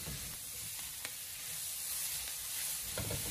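Onions are stir-fried in a hot wok, giving a steady close sizzle with soft scraping and tossing and a slight swell toward the end, no voices.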